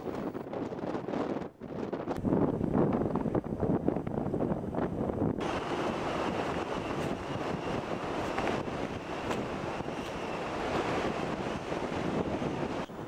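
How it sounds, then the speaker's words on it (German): A strong, cold wind roars across the summit of the Schneeberg mountain, buffeting the microphone in a continuous, loud rush with no talking. "Hier weht jetzt schon ein sehr kalter, kräftiger Wind."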